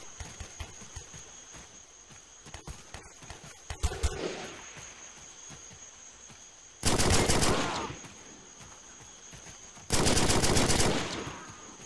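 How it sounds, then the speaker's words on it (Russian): Bursts of automatic gunfire from a mountain in a video game, a scatter of sharp shots early on, then two long, loud sustained volleys standing alone. "Это с горы стреляют как бы."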